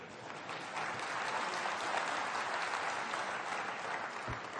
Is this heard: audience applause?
yes